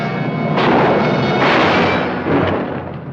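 Gunshot in a 1956 western film, loud booming blasts with long echoing decay, a couple of reports close together and no talk.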